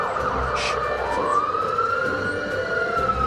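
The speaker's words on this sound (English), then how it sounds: "Siren!" An ambulance siren wails steadily, its pitch sweeping slowly over constant traffic noise.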